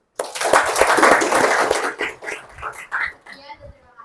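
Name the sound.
audience applause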